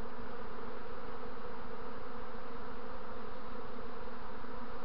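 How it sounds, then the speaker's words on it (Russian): Honey bees from an early swarm buzz around a cluster on the ground, a steady, dense hum of many insects close by, continuous and unbroken with no talk. "Это пчел много на земле."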